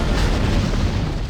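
A loud, sustained explosion in Star Wars Battlefront: Renegade Squadron on the PSP, a dense roaring blast of noise filling the whole short moment with no voices.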